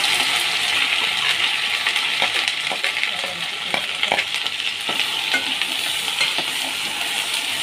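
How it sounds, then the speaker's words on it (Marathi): Misal masala fries in oil and Amul butter with a steady sizzle, while a spoon stirs and scrapes the pan in repeated clinking strokes close by. "हा मसाला आहे तो चांगला ह्याच्या तेलामध्ये आपण फ्राय करून घेणार आहे सर्व"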